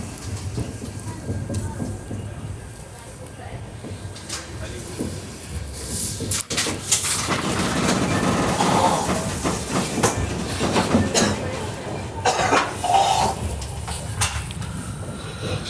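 A sleeper-class Mumbai–Amravati express rumbles along after leaving Akola Junction, a steady rolling clatter with wheel clicks and rattles heard from inside the coach while someone talks over it.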